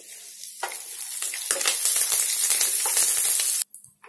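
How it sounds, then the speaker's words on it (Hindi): Curry leaves drop into hot oil with roasted peanuts for a spicy puffed-rice snack, setting off a loud, close, steady crackling sizzle that swells after a quieter start and then cuts off abruptly. "अब मैं इसमें करी पत्ते जो थे वो डाल देती हूँ जिससे वो भी भुन जाएंगे"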